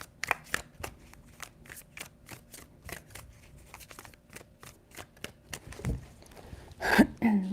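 Tarot cards shuffled by hand, a steady run of sharp close flicks and riffles that ends in a louder burst of handling, with no voice over it.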